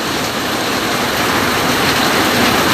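Heavy downpour in a tropical rural setting, a dense steady roar of rain drumming loudly and continuously with no pauses or voices.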